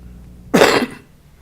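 A single sharp cough into the microphone at a city council meeting, loud and close in a quiet room, lasting about half a second.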